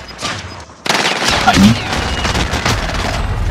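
Sustained Call of Duty gunfire from a rooftop firefight, loud and dense bursts of shots that start abruptly and continue without pause over a steady game background.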